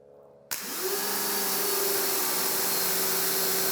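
Adams Polishes compact 1500 PSI pressure washer starts with a sudden burst and settles into a steady, loud spray hiss through a 40 degree nozzle, with a constant pump whine underneath.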